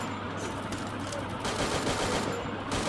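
Gunfire in the video game Free Fire: rapid bursts of automatic shots crackle continuously at moderate loudness, with no speech over them.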